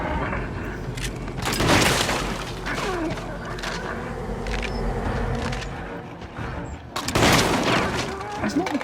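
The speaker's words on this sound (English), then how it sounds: "His shotgun jams quite easily." Heavy shotgun blasts in the video game Little Nightmares II, loud booming shots at intervals amid tense game ambience, with talk from a player over parts of it.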